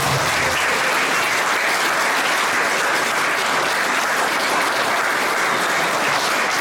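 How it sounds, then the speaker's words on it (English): An audience at a band's evening gathering applauds the young performers. Loud, dense clapping runs unbroken from start to finish, close and steady. "can we give them all a big cheer and a big clap?"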